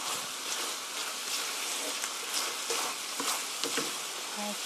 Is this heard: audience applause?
no